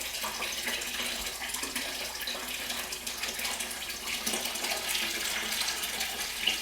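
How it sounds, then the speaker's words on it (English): Fresh salt water being poured into a saltwater aquarium, a steady broadband splashing and trickling that runs the whole time at moderate level, close by, with no voices. "Okay, the system's filled up with 10 gallons of fresh salt water"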